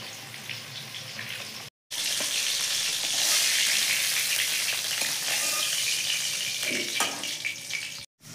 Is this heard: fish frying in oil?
yes